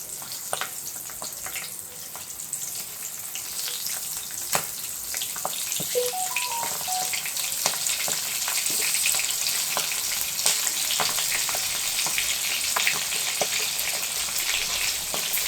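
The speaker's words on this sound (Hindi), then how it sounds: "ये मिर्ची फड़फड़ाएंगी" Green chillies frying in hot oil in a home kitchen pan, a steady loud sizzle and crackle with scattered pops that swells slightly over time, no talking.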